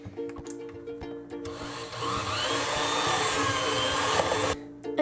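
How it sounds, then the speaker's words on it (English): An electric mixer on medium speed beats pumpkin cream cheese frosting with orange and lemon zest, a steady close motor whir that starts after a few clatters, runs for a few seconds, then cuts off. "you're going to beat that on medium speed for about a minute"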